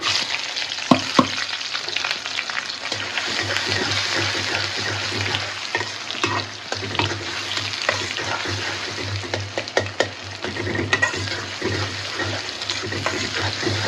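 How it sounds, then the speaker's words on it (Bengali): Mash dal (split black gram) with bay leaf frying in a pan, giving a steady close sizzle and crackle with occasional stirring scrapes throughout, no talking. "ডালটা ভাজছি"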